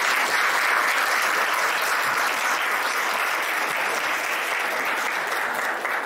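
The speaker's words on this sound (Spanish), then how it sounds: "Un aplauso para despedirlo." Dense, steady audience applause at a conference on state contracting risks, many people clapping evenly for about six seconds without a break.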